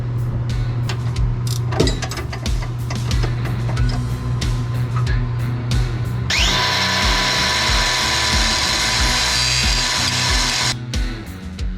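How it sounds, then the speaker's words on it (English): A power tool grinds down a bolt on the suspension of a 1973 Chevrolet Corvette C3 during a half shaft install. It gives a loud, close, harsh whine in bursts with clicks between, then one long sustained grinding pass. "the only option for me to fix this is to grind the bolt down a little bit"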